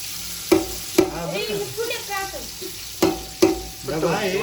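Onions frying in a pan while being stirred, a low sizzle punctuated by four sharp, ringing knocks of a spoon against the pan, with muffled chatter and voices running underneath.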